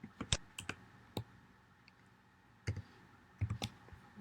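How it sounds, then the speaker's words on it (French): A computer mouse clicks sharply a handful of times in a quiet room. The clicks are crisp and scattered, with short gaps and a longer silence between them. "Je clique sur OK."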